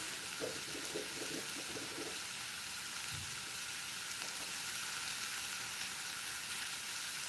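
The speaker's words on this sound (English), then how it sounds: "Draining my beans." Cooked beans are drained in a kitchen sink, a steady watery rush and splash that stays fairly quiet and even throughout.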